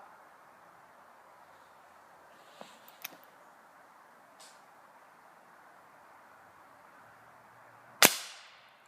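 A Gamo Rocket .177 caliber pellet fired from an air gun gives one sharp, loud crack near the end, preceded by a few faint clicks and handling sounds over quiet background hiss.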